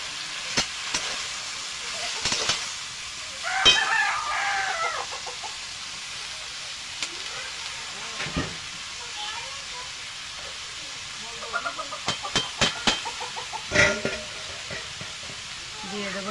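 Chopped cabbage frying in a pan with fried fish heads, a low sizzle broken by clattering stirs and bursts of scraping, with clucking chickens faintly in the background.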